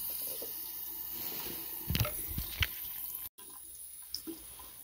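Water trickles and splashes onto waterproof ripstop pants, a faint running-water hiss with a couple of brief louder splashes midway, quiet and close with no talking.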